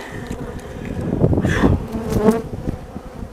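Agitated honeybees drone loudly around an opened hive that holds brood, eggs and larvae, a dense close buzz that swells and wavers throughout with individual bees passing near.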